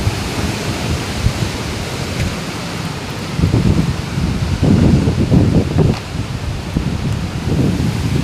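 Water roars through the fully opened gates of Sunkeshwara dam, a loud, steady broadband rush that swells and surges in places, heard close with no voices.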